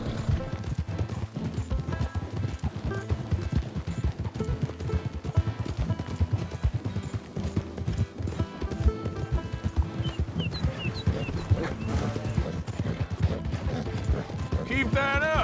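Donkey hooves clip-clop steadily in the Red Dead Redemption 2 video game, a continuous rhythmic clatter over music and rustling, with other game sounds mixed in.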